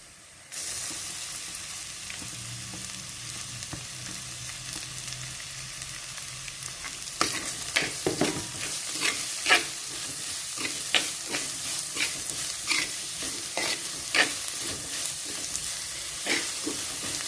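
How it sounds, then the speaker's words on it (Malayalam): Chopped onions dropped into a clay pot of hot oil for fish curry, a steady close sizzle with repeated sharp stirring scrapes and clatters building after a quiet start, no talking. "ഇനി നമുക്ക് അരിഞ്ഞ് വെച്ചേക്കുന്ന സവാള ഇട്ട് കൊടുക്കാം."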